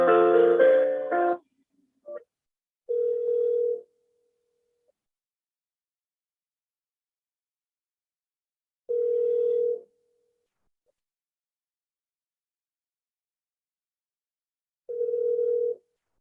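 Telephone ringback tone heard while a call is transferred, beginning with a brief burst of hold audio and a click, then long evenly spaced single tones separated by several seconds of silence, clear and alone.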